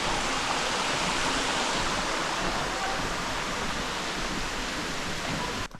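A waterfall on a hiking trail roars in a steady, dense broadband rush that holds loud and unbroken throughout, then cuts off abruptly at the very end.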